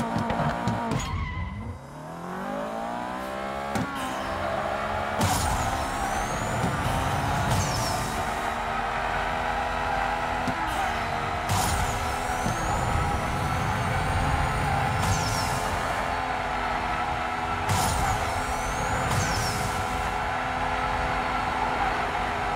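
A Ferrari 488 Pista in the racing game NFS No Limits revs hard and pulls through repeated upshifts, its engine note climbing and dropping again and again over long stretches, with tire squeal mixed in.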